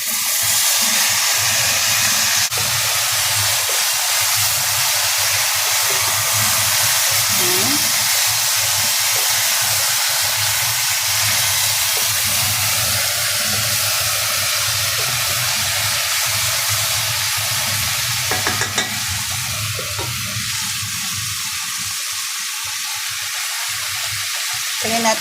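Jackfruit pieces go into a pot of cansi, a Western Visayas sour soup, while it cooks. A loud, steady sizzle and bubbling hiss runs the whole time, with faint stirring knocks.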